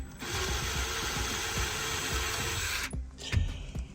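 A power drill whirs steadily, close and loud, boring screw holes in the custom center console of a VW Baja, then stops with a few clanks and handling noises.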